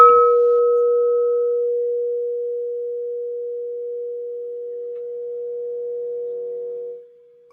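A singing bowl is struck once and rings with clear, pure sustained tones that fade slowly over several seconds, heard alone in a quiet room.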